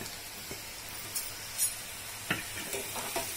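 Corn-flour-dusted potato finger chips drop into hot oil, a steady soft sizzle with occasional clinks and stirring taps, close and moderate in loudness, no talk.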